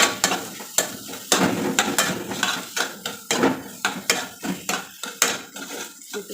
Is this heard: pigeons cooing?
no